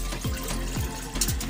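Rice is washed in water for Arabic white rice, with a continuous close splashing and sloshing and three soft rhythmic swirls of the grains stirred by hand, and no voices.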